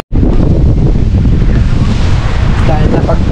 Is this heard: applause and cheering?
no